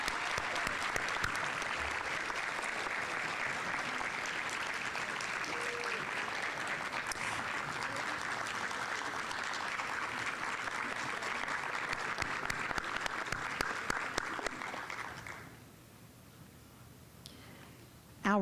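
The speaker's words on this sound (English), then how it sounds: "another round of applause for Mr. Todd Robbins." Sustained audience applause, broad and steady for about fifteen seconds, then abruptly dropping to near quiet with a few stray claps.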